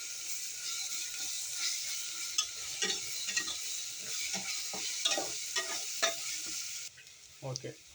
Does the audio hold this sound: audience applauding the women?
no